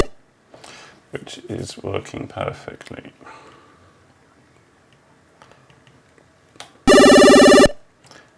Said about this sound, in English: then you should hear a minor arpeggio